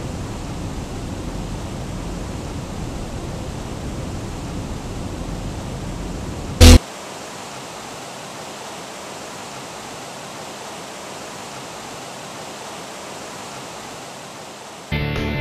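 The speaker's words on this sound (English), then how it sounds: "When the music stops, you really can notice the white noise from that." Sewer water in a video game level makes a steady rushing hiss like flowing water, heavier and fuller with a low rumble at first, then thinning to a quieter, even wash after a brief sharp click, with no talk.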